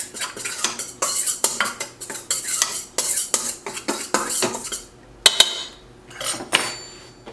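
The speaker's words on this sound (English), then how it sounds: "I'm just going to use my knife and kind of stir this up in my mixing bowl." A knife stirs a cranberry and cinnamon mixture in a mixing bowl, giving sharp, irregular clinks and scrapes of metal against the bowl, loud and close, with brief pauses and no voices.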